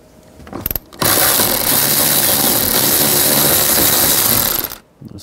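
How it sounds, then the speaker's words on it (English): A ratchet fitted with a 13mm socket loosens mirror bolts on a 2019-20 Chevy Silverado, giving a loud, continuous rapid clicking run that lasts about four seconds, preceded by a few brief clicks. "Use a 13mm socket. Loosen them all up."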